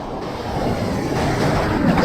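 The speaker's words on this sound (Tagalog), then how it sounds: "Oh, grabe yung alon!" Strong sea waves at sea in rough weather during a fishing trip, a continuous loud rushing wash of surf and water noise that swells slightly, close, with no talk.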